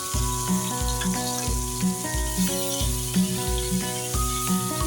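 Rawas fish sizzles steadily in a hot pan after being flipped, a loud continuous crackle and hiss with a faint rhythmic tapping running through it, and no voices.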